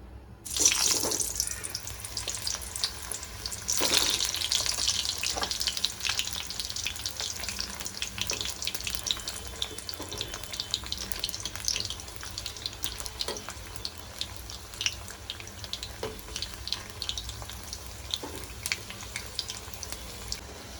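Eggplant pieces frying in hot oil, a steady bright crackling sizzle with sharper bursts near the start as pieces hit the pan, continuing evenly throughout without talk.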